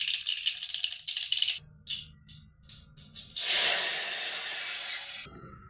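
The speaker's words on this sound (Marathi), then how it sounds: "आता जिरे मोहऱ्या छान तडतडल्या की त्यामध्ये पाणी टाकायचे" Water poured into a hot pan of crackling cumin and mustard seed tempering, a loud burst of sputtering and hissing after some seed popping, then a sustained steamy sizzle close by with no talk.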